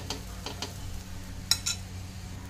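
Chilla batter is spread across a hot pan, making faint scraping strokes and a couple of sharper metallic taps over a low, steady background hum.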